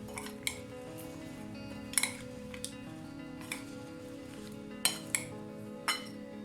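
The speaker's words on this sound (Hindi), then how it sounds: "इन सबको हम अच्छी तरह से मिक्स कर लेंगे।" Spices and chili sauce are stirred together in a bowl for potato pakoras, and a spoon clinks sharply against the dish several times at irregular intervals over a steady low kitchen hum.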